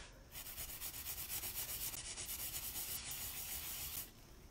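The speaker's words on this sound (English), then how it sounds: "I'll use the softer side and very gently rub Then and buff." A sanding sponge is gently rubbed back and forth over a raised stencil, giving a soft, rhythmic scratchy swishing that is close and quiet and lasts about four seconds.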